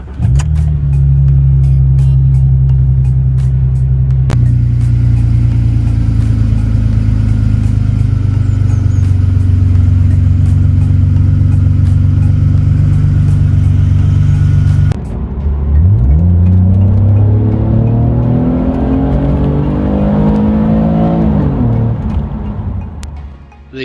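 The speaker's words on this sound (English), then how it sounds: "The 3 litre is a lovely engine to push." A Jaguar X-Type with a 3 litre V6 drones steadily at a held engine speed from inside the car, then revs up through rising, falling sweeps during hard acceleration, loud and alone.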